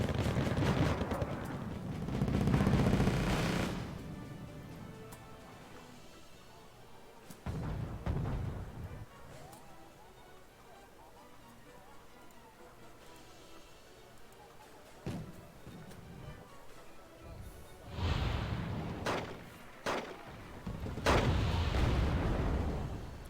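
Heavy bombing and artillery explosions boom in the Wargame Red Dragon video game. Rumbling blasts come in clusters at the start and again near the end, with a quieter stretch in between, at moderate volume.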